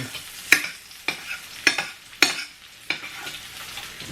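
Sweetbreads frying crisp in butter in a pan, a close crackling sizzle with a burst of spattering roughly every half second and a soft hiss between the bursts.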